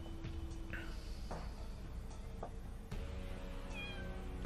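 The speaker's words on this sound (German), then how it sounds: "Komm, Kitty, komm, jo. Schau mal, was ich hier Feines habe" A cat in the video game Chaos auf Deponia gives a couple of short meows over a steady, quiet game ambience with faint clicks.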